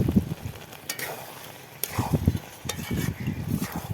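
Meat stir-fried in oil with garam masala, stirred in a pan. Scraping and stirring strokes come in short bursts over a soft sizzle, close by and moderately loud.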